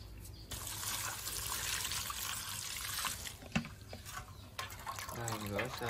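Cooked beans are rinsed in water with a continuous trickling, splashing wash and occasional knocks, close by; a brief voice rises near the end.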